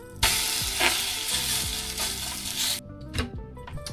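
Thick crepe batter frying in far too much oil in a home pan, loud crackling sizzle with spitting pops, then a few sharp utensil taps and scrapes as the sizzle drops away.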